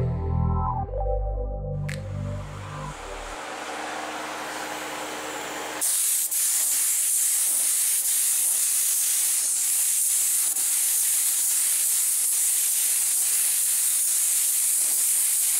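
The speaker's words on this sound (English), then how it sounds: "Spray a coat on it." A spray gun lays a coat of paint onto a 22-inch chrome wheel with a steady, loud, close hiss that runs unbroken for about ten seconds after a quieter start with mechanical noise.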